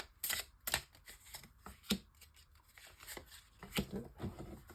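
Tarot cards being laid out one by one for a reading, soft quiet slaps and brushes of card on a surface in an irregular series of sharp taps, close and faint.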